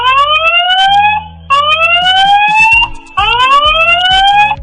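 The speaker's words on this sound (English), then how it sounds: "You can also use the alarm to scare away thieves." A Wi-Fi surveillance camera built into an E27 bulb sounds its loud alarm siren: three rising electronic wails in a row, each swooping upward and breaking off, close and harsh.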